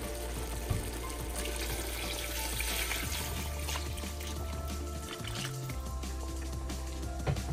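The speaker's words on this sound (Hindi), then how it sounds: "अब हम इसमें यखनी शामिल कर देंगे।" Mutton stock (yakhni) is poured into a pot of browned mutton for pulao, a steady liquid rush and sizzle running for several seconds over a low hum, no talk.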